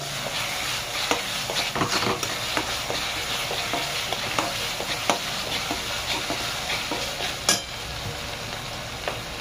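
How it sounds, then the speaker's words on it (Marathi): Konkani chicken masala is roasted and stirred in a pan, giving a continuous soft sizzle with repeated scraping clicks of a spoon against the pan and one sharper clatter near the end. No one speaks over it. "मसाला बरोबर भाजून घ्या।"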